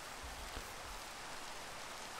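Rain falls steadily in Minecraft, a faint, even hiss with no other sounds over it.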